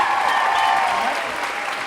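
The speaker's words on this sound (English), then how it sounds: "A round of applause for our winners once again." Loud, dense applause from an audience honoring dance competition winners at a charity dance night, sustained clapping throughout with a bright wash of noise.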